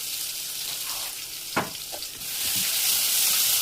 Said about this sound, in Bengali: আগে জিরে ফোড়ন দিয়ে এখন কিছু পেঁয়াজ আর রসুন, পেঁয়াজ রসুন দিই।